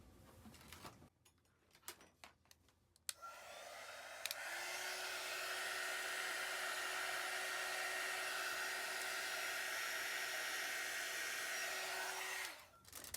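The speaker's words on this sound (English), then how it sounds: "I'm going to get my heat gun" A heat gun blows hot air over a junk-mail envelope journal, starting after a few clicks and handling noises and then roaring as a steady, loud whoosh with a faint tone before shutting off.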